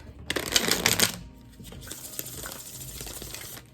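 A quick burst of tarot cards riffling and shuffling, loud at first, then softer shuffling and tapping close by.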